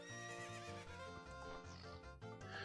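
Epona, the horse in the Legend of Zelda: Ocarina of Time video game, gives a clear whinny over galloping clip-clop hoofbeats, with tuneful in-game music playing underneath.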